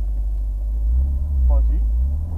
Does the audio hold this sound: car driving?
yes